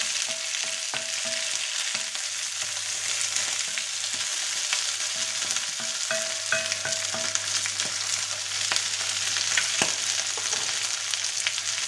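Meat browns in a frying pan for paella, giving a continuous close sizzle with small pops and intermittent stirring scrapes, no talking.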